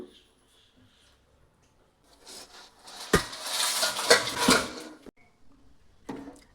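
A spoon scrapes and clatters around a metal pan of jaggery syrup in a few bursts, with quiet pauses between the stirring noises.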